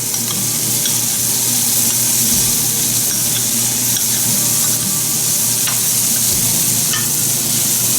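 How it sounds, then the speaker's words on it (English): Cashew paste fries loudly in a hot pan, a dense steady sizzle with faint stirring scrapes, close up and continuous, with no voices. "we'll add the cashew paste that we did, and we'll fry till golden brown."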